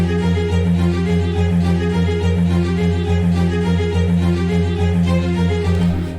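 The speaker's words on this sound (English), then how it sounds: "this section I add the string, and this is called a short string from the free orchestra" Short, rhythmic string sample from a free orchestra library, steady repeated bowed notes pulsing evenly over a sustained low bed, loud and continuous with no voices.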